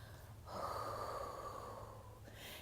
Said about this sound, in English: just be still and breathe deeply. Inhale slowly.